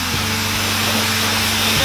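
A hair dryer blows with a loud, steady, continuous rushing drone, close up and unbroken throughout.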